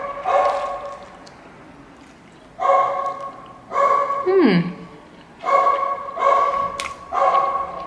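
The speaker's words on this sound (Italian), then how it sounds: "Questo cane qua abbaia sempre." A dog barking in a home courtyard: five loud, close barks in separate bursts, one sliding into a whine, with quiet pauses between them.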